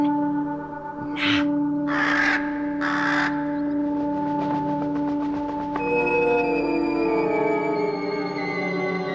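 Raven caws in a folk tale setting, three loud, harsh calls in quick succession followed by a sustained tonal musical backdrop, close and clear without speech.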